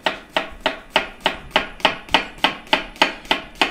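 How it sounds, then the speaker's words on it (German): A knife slices a shallot into rings on a board, giving a quick, even series of about a dozen crisp, close chopping taps. "Schalotte. Schneiden wir einfach so Ringe runter."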